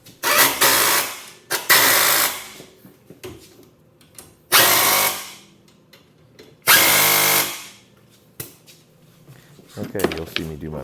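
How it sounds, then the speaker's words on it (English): An impact wrench tightens 19 mm brake caliper bolts on a Ford Escape, Mercury Mariner or Mazda Tribute of 2009 or newer, firing in four loud rattling bursts separated by quieter handling sounds and some talk. "I'll come back with the impact and tighten up all my 19 millimeters at one time"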